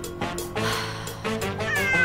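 A kitten meows several times in short cries, close and clear, with a thin whistling tone near the end.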